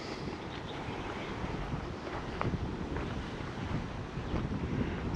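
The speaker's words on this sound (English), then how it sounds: "It's getting a bit windy now." Gusty wind sweeps across an open cemetery, buffeting the microphone with a steady, rough roar that rises and falls slightly over a few seconds with no other clear sounds.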